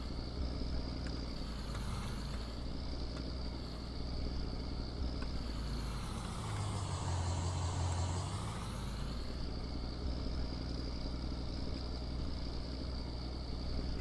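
A vehicle in Farming Simulator 2019 drives through a parking lot by a snow plow shop, its engine a steady droning rumble that swells and dips as it moves, with no talking.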